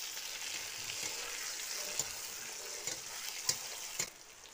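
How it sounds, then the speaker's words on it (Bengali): Onion and chopped tomato frying in a pan, a soft steady sizzle with several light scraping stirs and a few sharp clinks of a utensil against the pan, close and fairly quiet, no talk. "পেঁয়াজটা একটু নাড়াচাড়া করে এটাও একটু বাদামি রং চলে এলে এর মধ্যে দিয়ে দিতে হবে টমেটো কুচি।"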